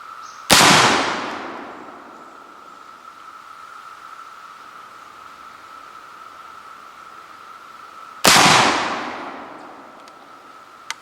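Two sharp, loud gunshots from a Pedersoli 1859 Sharps infantry rifle firing cartridges, spaced several seconds apart, each ringing out and decaying over a steady background hiss.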